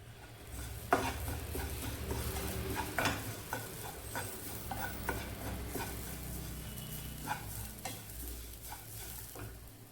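White sesame seeds and grated coconut fry in a pan, a steady close sizzle with scattered scraping clicks of a spoon stirring through the whole stretch, no voices.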